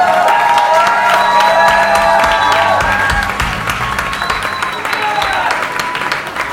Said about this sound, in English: A big round of applause to this amazing space and Aisling and Luca